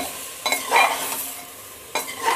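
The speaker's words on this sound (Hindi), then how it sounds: "और इन सारे मसालों को डालने के बाद मैं इसे अच्छी प्रकार से मिलाती हूँ और इसे हमें यूं ही चलाते रहना है" Spiced jackfruit curry sizzles in the pan while a spoon stirs it in two quick close scraping bursts over a steady frying hiss.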